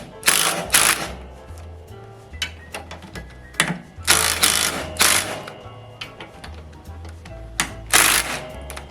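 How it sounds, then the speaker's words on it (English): Impact gun running down hand-started bolts on new handlebars of a Harley Davidson chopper, delivering several short bursts of loud rattling hammering separated by pauses, with a low motor whir between bursts. "I'm not torquing them with the gun, I'm just running them down with the gun"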